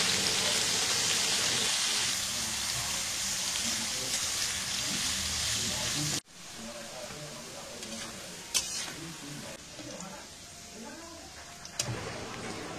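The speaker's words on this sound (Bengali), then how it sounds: "এরপরে গাজরগুলো ভেজে নেব একইভাবে।" Carrots fry in hot oil, a steady dense sizzle at first that drops to a quieter crackle midway, with a few sharp ticks and pops near the pan.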